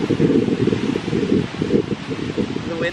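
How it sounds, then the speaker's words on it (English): Gusty wind sweeps across the Atlantic Ocean shore, buffeting the microphone with a rough, uneven rumble that swells and dips throughout, with a faint voice briefly audible near the end. "The wind makes it nicer."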